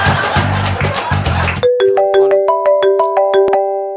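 A mobile phone ringtone plays a bright, rising sequence of electronic chime notes, loud and close, after a burst of voices at the start.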